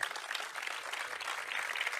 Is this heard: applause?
yes